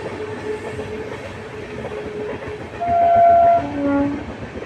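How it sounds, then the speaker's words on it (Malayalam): A train rolls past on the tracks, with a steady rumble and a bright tonal horn sounding briefly toward the end. "അതൊരു ട്രെയിൻ പോകുന്നതായി കാണാൻ പറ്റും."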